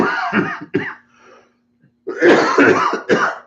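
A man coughs and clears his throat repeatedly in harsh, close bursts, pauses into near silence with a faint low hum, then breaks into another run of rasping coughs.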